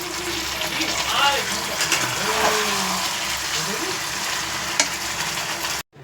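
Green chilli paste masala being sautéed and stirred in a pan, a close continuous sizzle with scraping strokes and some faint background voice, ending abruptly.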